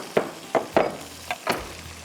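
Chopped tomatoes tipped onto frying onions in a karahi land as five separate soft splats and thuds, spaced unevenly over a faint background sizzle.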